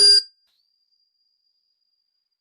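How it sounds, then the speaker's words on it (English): A bell is struck once, giving a short bright ding whose thin ringing tail fades quickly into silence. "It's like the sound of this bell."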